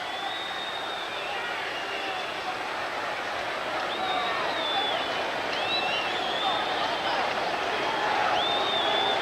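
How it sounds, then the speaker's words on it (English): Crowd noise at a 1989 NFL game between the Cleveland Browns and Miami Dolphins in Miami, a dense continuous stadium roar with scattered whistles and shouts rising slightly toward the end. "Crowd very, very noisy."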